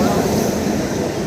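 A train pulls into a station, a steady broad rumble of wheels and carriages held close and loud throughout with no pauses.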